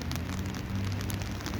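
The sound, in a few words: rain falling outdoors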